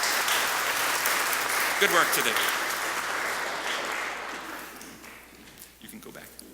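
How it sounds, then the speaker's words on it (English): An audience at a church service claps for a theater troupe, with sustained applause that slowly fades away. A voice speaks briefly over the clapping. "A little round of applause for our theater troupe."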